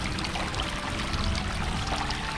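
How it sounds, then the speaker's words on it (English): Waterfall at Apshawa Preserve, a dense, even rush of falling water that stays loud and close throughout the short stretch, with no talking. "So this is the waterfall"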